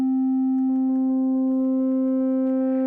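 A steady FM synth tone from a Polyend Play, a loud pure sine-like note that gains added harmonic overtones and faint rhythmic ticks as it sustains, with no talk.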